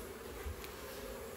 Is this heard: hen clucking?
no